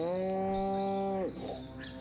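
A cow in the Destroy All Humans! remake lets out one long, loud, close moo that drops off sharply, followed by faint background noise.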